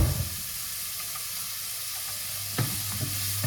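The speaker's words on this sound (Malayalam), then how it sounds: "സവാള നമുക്കൊന്ന് ഇളക്കി കൊടുക്കാം" Chopped onions stirred as they fry in a pan, a steady close sizzle with a few sharp scraping knocks of the spoon toward the end.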